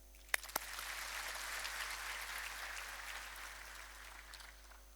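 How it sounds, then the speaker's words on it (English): An audience applauds a professorship announcement at an academic ceremony. A couple of sharp knocks open into a soft, steady round of clapping with a constant low hum beneath it, faint and distant throughout. "Join me to applaud and accept the professorship of Professor Bizunesh Mideksa Borena."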